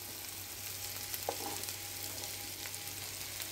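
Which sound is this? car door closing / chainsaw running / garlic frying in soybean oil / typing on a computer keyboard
garlic frying in soybean oil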